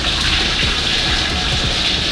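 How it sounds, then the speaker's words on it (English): Boiled water poured onto dry ice in a glass, a steady close gushing, bubbling hiss with low rumbling churn that runs unbroken and fairly loud throughout. "So we have your boiled water and dry ice."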